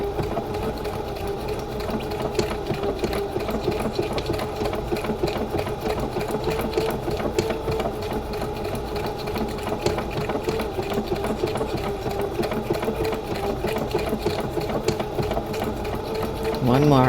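A sewing machine stitching steadily, a close, even, rapid mechanical whir with fast rhythmic needle clatter running unbroken for the whole clip.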